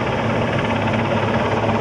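Sea King helicopter hovering close by during a Navy Day demonstration in Visakhapatnam, its loud continuous rotor thrum and engine roar filling the scene without letup.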